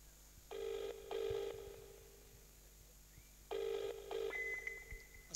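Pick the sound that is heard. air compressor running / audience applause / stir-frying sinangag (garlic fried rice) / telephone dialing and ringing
telephone dialing and ringing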